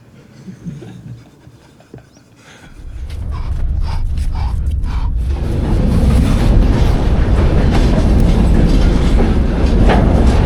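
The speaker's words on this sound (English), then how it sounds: "Oh, they're shunting our train. They're just shunting it." Train wagons rumble and clank as they are shunted, a quieter start giving way to a loud, steady rolling roar with metallic knocks.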